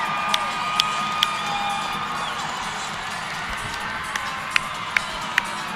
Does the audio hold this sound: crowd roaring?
yes